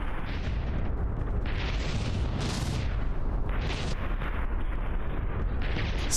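Battleship cannons firing in the naval combat game From the Depths, a dense, continuous barrage of booming blasts and explosions that roll over one another with no break.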